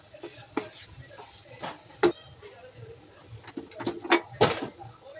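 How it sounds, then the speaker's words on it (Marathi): Hot coconut burfi mixture being scraped out of the pan onto a greased plate, with scattered clinks and knocks of a spoon on metal and short scrapes, close and irregular, over soft background noise. "आता मी ते ताटात काढून घेते आणि वड्या त्याच्यात थापून घेते."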